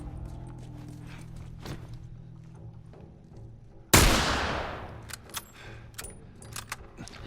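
A single sharp gunshot from the El Diablo weapon in the video game Grounded bursts out loudly midway, decaying over a second amid quieter game clicks and footsteps.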